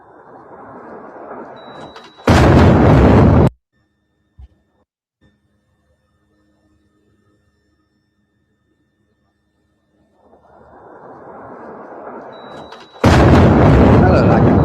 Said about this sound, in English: That looked like a bomb.